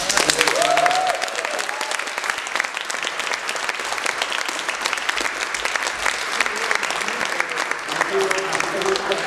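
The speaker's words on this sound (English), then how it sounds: "let's give them a big round of applause." A large audience at a comics panel featuring Matt Fraction, Leinil Yu and Salvador Larroca gives the speakers sustained, dense applause that stays loud and even throughout, with faint voices and cheers mixed in.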